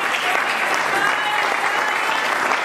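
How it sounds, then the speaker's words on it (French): A church congregation applauds in a steady, dense burst of clapping that continues evenly from start to finish, with faint voices mixed in. "Acclamons pour le gloire de gloire."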